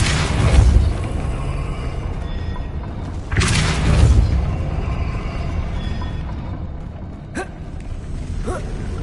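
The Depulso spell is cast in Hogwarts Legacy, a heavy booming blast with a deep rumble, repeated about four seconds later, followed by a couple of brief sharp clicks and pops.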